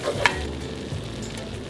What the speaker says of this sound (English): Melt it down to make a roux.